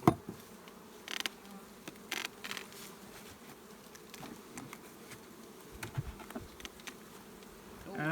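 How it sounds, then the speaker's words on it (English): Honeybees buzzing inside an opened beehive during a hive check, a steady low drone of many bees close by, with occasional louder knocks and handling sounds from the frames. "Bees wall to wall."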